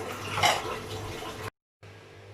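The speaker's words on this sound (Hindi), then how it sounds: "यहाँ मैंने 4 ग्लास पानी डाल के हाई फ्लेम" Water pours steadily into a cooking pot over high flame for mutton kabsa, a continuous close splashing rush that cuts out briefly, then a quieter running flow resumes.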